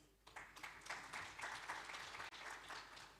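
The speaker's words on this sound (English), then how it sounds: "let's give ourselves a round of applause" Participants at a morning agri-food systems conference give themselves a round of applause, a brief, moderately dense burst of clapping from a room full of people, faint overall and lasting about three seconds.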